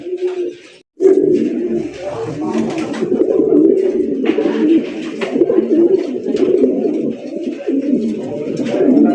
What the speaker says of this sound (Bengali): অস্থির একজোড়া কালারিং রাজগোলা কবুতর দেখতেই পাচ্ছেন